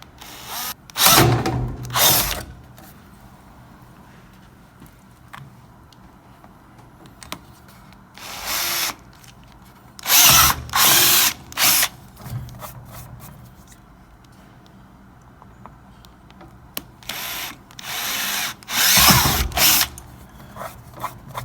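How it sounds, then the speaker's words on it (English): A power drill with a 1/4-inch (5 mm) bit bores into plastic during a Genmega Vscan installation, running in several short high-speed bursts separated by quiet pauses, with no talking. "Now here I've drilled using a 1/4-inch bit or 5 millimeter in each of the 3 spots."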